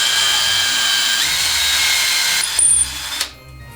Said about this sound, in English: And then we'll drill a size smaller in the pine cone, and that way it actually threads onto the screw.